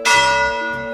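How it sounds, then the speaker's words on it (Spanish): A church bell in the town of Fuentes strikes once, loud and close, its rich metallic tone ringing out and slowly decaying. "¿y la campana cada cuánto toca?"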